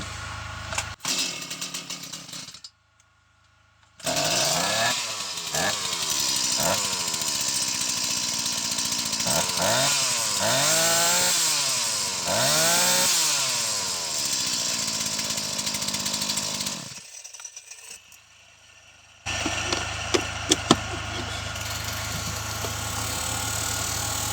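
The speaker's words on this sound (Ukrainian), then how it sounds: "Пилочка працює." A STIHL MS 180 chainsaw after cylinder repair starts and runs close by, revving up and down in repeated bursts, then cuts out briefly before idling again.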